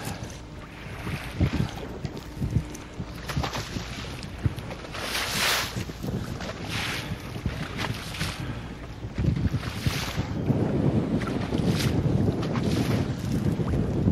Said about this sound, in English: Casting into a 20 or 25 mile an hour headwind is not the easiest thing in the world, even for elites.